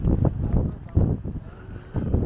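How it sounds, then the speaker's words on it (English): Gusty wind buffeting the microphone in a London park, low rumbling bursts rising and falling over a couple of seconds. "It's windy, but it's not that cold."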